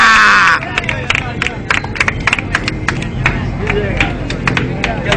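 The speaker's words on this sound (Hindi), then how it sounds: "तालियां" Applause from a crowd at a competition, a close burst of many hands clapping in quick uneven claps, mixed with crowd babble and voices throughout.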